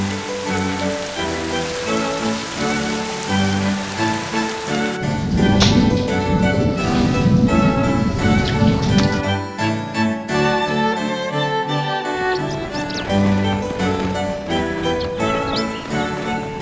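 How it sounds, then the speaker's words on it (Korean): Raindrops fall on sand dunes, a steady close pattering that thickens into a louder, denser downpour in the middle before easing back. "모래 언덕은 빗방울에 쉽게 부서지고 그 흔적을 또렷이 남긴다."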